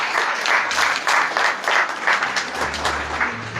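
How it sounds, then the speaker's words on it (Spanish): Audience applause at a library's 60th anniversary ceremony in San Juan de los Lagos, honoring the librarians: a steady, dense burst of many hands clapping together, loud and sustained throughout with no voices over it. "fuerte ese aplauso para los bibliotecarios que están al pie del cañón con nosotros"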